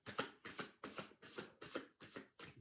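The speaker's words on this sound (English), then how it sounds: "So now I'm going to take those cards again and I'm going to shuffle them" A deck of playing cards is shuffled seven times in a steady rhythm. Each pass makes a crisp, riffling burst, close and fairly quiet, with short pauses between.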